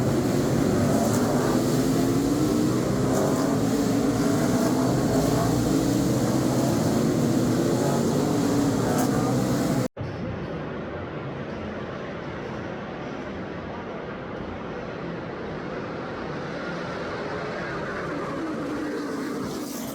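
NASCAR Xfinity race cars race at an event in Chicago, producing a continuous loud roar of engines heard from among the crowd that drops to a lower, steadier drone after an abrupt cut midway.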